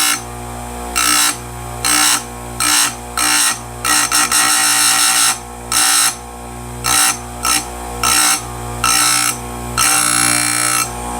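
Stihl USG round grinder sharpening a damaged chainsaw chain, a loud steady motor hum broken by repeated short bursts of grinding, one per cutter, in a regular rhythm.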